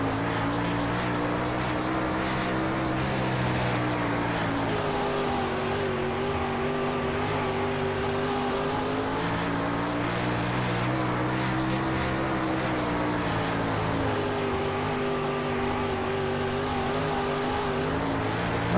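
Several dirt late model race car engines roar steadily in World of Outlaws Dirt Racing on a dirt oval, a loud continuous droning whine whose pitch rises and falls as the cars accelerate and ease off through the turns.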